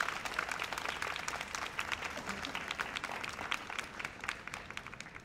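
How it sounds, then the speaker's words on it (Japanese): Concert audience applause for a Japan Air Self-Defense Force band performance, steady many-handed clapping heard from a distance at low volume, sustained throughout. "今一度大きな拍手をお送りください"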